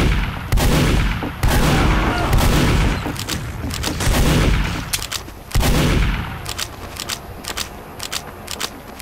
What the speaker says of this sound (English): I suck with this shotgun.